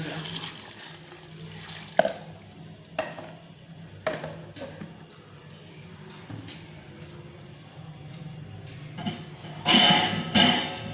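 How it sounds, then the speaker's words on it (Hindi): Water poured over kachnar buds and meat in a cooking pot, with a few soft knocks and a louder splashing gush near the end, heard close in a quiet kitchen. "तो अभी सिर्फ यही डालेंगे और ऊपर डालेंगे पानी।"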